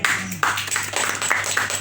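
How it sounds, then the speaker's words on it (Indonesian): A church congregation claps in applause, with a steady burst of hand claps from many people filling the room, loud and continuous throughout. "Kasih tepuk tangan."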